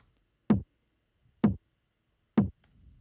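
Three short, punchy electronic tom hits spaced about a second apart, each with a quick pitched thump that decays fast, alone with no talk.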